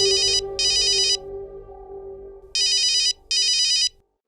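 A telephone rings in two pairs of electronic trills, loud and close, the second pair after a short pause, over a low background hum.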